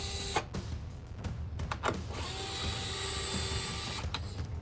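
A ratchet fitted with a magnetized 7mm socket backs out the taillight bolts on a C7 Corvette, giving a close mechanical whir with short clicking bursts and no voices.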